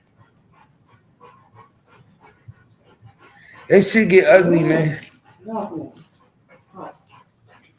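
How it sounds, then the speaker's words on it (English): A dog whimpers and pants close by in a short burst, mixed in with someone talking casually. "now my dog coming out of nowhere"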